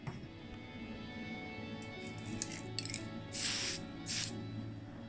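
Undercoat sprays onto a Tonka toy casting in two short hissing bursts, each about half a second long, close up, over a low steady background hum.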